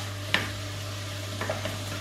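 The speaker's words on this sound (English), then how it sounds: "So let's get this pork kind of mixed in well with the spice mix." Pork mince being stirred with a sugary spice mix in a pan, one sharp utensil scrape followed by a couple of softer stirs over a low, steady hum.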